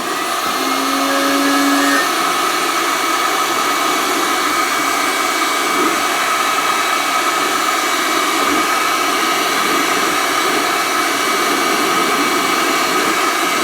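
A heat gun blasts hot air onto the seized spindle of a JVC LA11 turntable. The loud, steady whooshing roar runs without a break the whole time, with a brief tonal whine near the start and no one talking.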